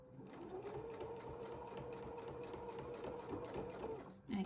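Sewing machine running a steady continuous stitch through thick quilted fabric for a box bag, close and even-paced, stopping abruptly at the end with a soft clunk.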